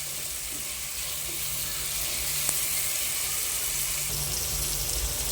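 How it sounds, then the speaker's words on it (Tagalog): Water pours into a pot of sautéed aromatics for sardine sinigang, a steady hissing splash with faint sizzling, continuing evenly to the end. "Mga 2 cups po yan na tubig."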